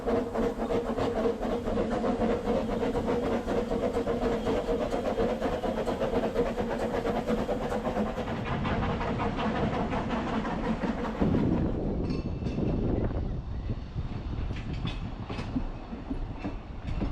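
A Ffestiniog Railway train hisses and rumbles steadily as it draws forward to the platform, then the sound drops away to quieter rolling clatter and mechanical noise near the end, with no one talking.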